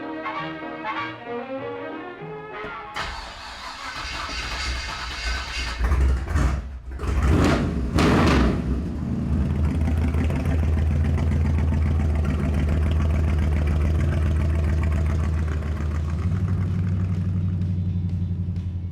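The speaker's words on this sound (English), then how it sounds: "That glass pack, you know, you can hear it coming from down the road." A classic 1940s–50s car with a glass pack exhaust rumbles steadily, its deep, throaty exhaust note loud and close, with a brief burst of revving partway through before settling back into an even idle-like drone.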